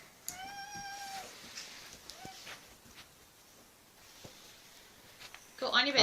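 A house cat that has taken a dog's bed gives a drawn-out meow, then a shorter, quieter one, in a hushed indoor room, ending with a brief rustling clatter.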